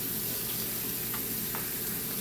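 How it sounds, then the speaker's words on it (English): Tap water running steadily into a colander of chickpeas being rinsed at a kitchen sink, a dense continuous hiss and splatter heard close up with no talking. "Dump them into your colander and rinse some."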